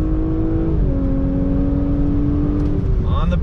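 A 2021 Audi S5 Sportback's engine pulls hard out of a roundabout, a loud steady drone heard from inside the car that rises in pitch as it accelerates.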